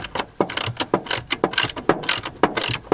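A ratchet works a tight seat screw on a Datsun 280Z, giving loud, close, rapid clicking in repeated bursts of strokes with brief pauses between them, with no talk.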